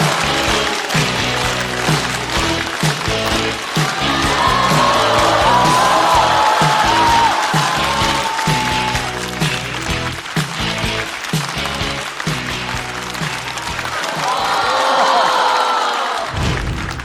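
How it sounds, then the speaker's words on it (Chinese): A stand-up comedy show audience applauds and cheers as comedian Wang Dadao is welcomed onto the stage, sustained loud clapping and whoops over upbeat stage music, with voices mixed in. "让我们掌声欢迎王大刀"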